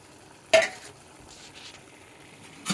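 Sweet rice mixed with almonds and other ingredients pre-fried in ghee is stirred in a pot, with two sharp spoon scrapes against the vessel separated by quiet, faint mixing sounds.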